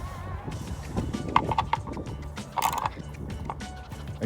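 A ratchet with a 17mm deep socket clicks in short bursts of rapid ticks while tightening the sump nut on a BMW 120d, close and fairly quiet over a faint background murmur.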